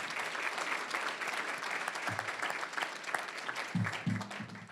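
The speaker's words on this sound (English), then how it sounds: "Please give them a round of applause." An audience at an awards ceremony gives the Board of Trustees a steady round of applause, moderately distant and fairly soft, with a few low murmurs mixed in.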